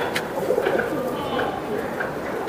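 Giribaj racing pigeons coo softly in short, low, rolling phrases close by, against a faint background hiss with no clear talk.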